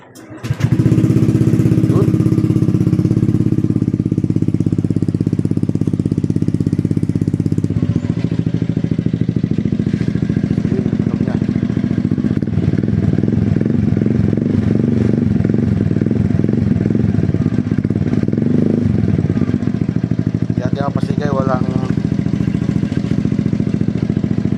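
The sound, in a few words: motorcycle engine revving with Semi Evo 44 mm exhaust tip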